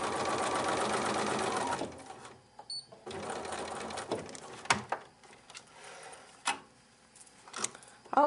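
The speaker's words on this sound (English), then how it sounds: "starting all the way from the edge and back stitching at the dot." A sewing machine back stitching fabric segments runs in a fast whirring burst, then stops, followed by quieter clicks, handling taps and a few isolated thumps.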